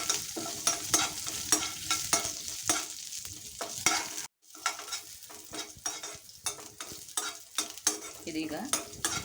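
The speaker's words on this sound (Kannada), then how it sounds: "ಜೀರಿಗೆ ಉದ್ದಿನಬೇಳೆ ಹುರಿದ ಮೇಲೆ ನೆಲ್ಲಿಕಾಯಿನ ಹಾಕ್ಕೊಳ್ತೀನಿ. ಇದನ್ನು ಚೆನ್ನಾಗಿ ಹುರಿಬೇಕು." Amla roasting in a pan with cumin and urad dal, a soft continuous sizzle broken by frequent rhythmic scrapes and clicks of a stirring spoon, close by, with one brief silent gap and no voices.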